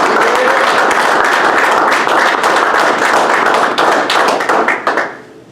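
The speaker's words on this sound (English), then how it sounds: "Let's give one more round of applause to our newest Dirt Boys." A graduation ceremony crowd claps for the newly graduated Dirt Boyz class, loud and dense sustained applause that carries on for several seconds before tapering off at the end.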